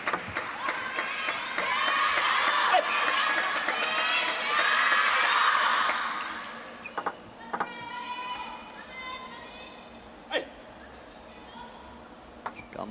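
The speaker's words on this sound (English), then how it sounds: "Gambare Togami. Some of the fans in the crowd" Crowd cheering and shouting at a WTT Singapore Smash table tennis match, a loud sustained roar for about six seconds that then drops away to sharp ball pings, scattered shouts and commentary.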